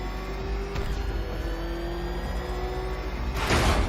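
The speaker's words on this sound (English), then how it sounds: "I'm also getting better and better at driving this darn car." A Batmobile-style car engine in the game Arkham Knight drones steadily with a whirring rev, holding a constant tone before surging louder near the end, with no talk over it.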